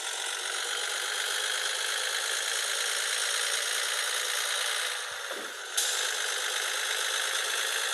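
A Volvo F-16 truck engine in the Cargo Transport Simulator game drones steadily at cruising revs, a constant hum broken by a brief dip and click near the end.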